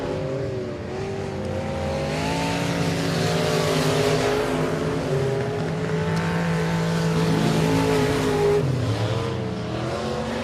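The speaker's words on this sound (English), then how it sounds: "Rolling off a 4 underneath the flag stand of the JRP Racing Products number 0 machine" A dirt-track race car, the IRP Racing chassis number 0, roars loud and close through a time-trial lap at Boothill Speedway, its engine note rising and falling steadily with a brief lift near the end and no talk.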